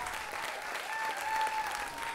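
Steady audience applause at a fundraising concert for refugee children in Växjö, dense sustained clapping from a large crowd filling the hall without a break.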